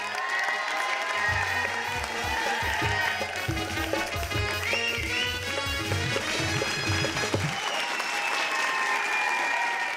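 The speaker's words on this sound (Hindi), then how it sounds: "जोरदार तालियां हो जाए एक बार।" Sustained applause from a comedy show audience in a Hindi-language studio, a thick, even roar of clapping lasting the full ten seconds, with a rhythmic music bed thumping underneath for most of it before the beat drops out near the end.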